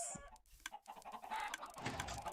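Chickens on a Minecraft chicken farm cluck in short overlapping bursts, several birds close by forming a busy, continuous chorus of game clucks.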